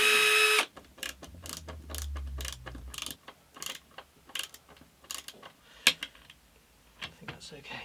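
A drill bores a short 2mm pilot hole into OSB board. A brief, loud motor whir with a low hum gives way to scattered light clicks and handling knocks.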